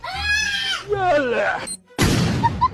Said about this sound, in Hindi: और तोप चला देता है